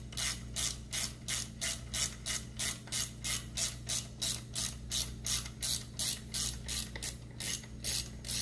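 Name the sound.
ratchet tightening Porsche Boxster 986 engine bolt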